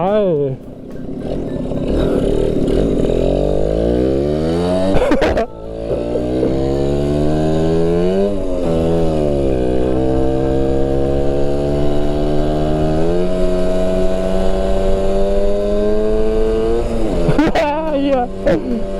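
A Suzuki RC100 two-stroke motorcycle engine revs hard and high, its pitch climbing and dropping through gear changes in a loud, sustained roar with brief breaks between pulls.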